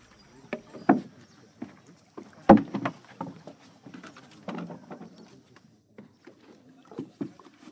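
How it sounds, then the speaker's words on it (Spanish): A wooden canoe is paddled along a river in Chitwan, Nepal, with irregular splashes and knocks of the paddle against the hull, close and fairly quiet, and one sharper thump in the middle. "Más tradicional que los jeeps o los elefantes, el método de transporte en Chitwan es en canoa"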